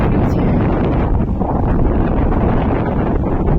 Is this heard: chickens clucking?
no